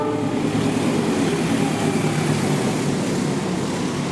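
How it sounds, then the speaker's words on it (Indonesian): Papandayan 129 passenger train running past a station in Indonesia, a steady broad rumble of wheels and carriages that holds loud and even throughout, close by with no voices over it. "Kemudian akan melintas kereta api Papandayan 129."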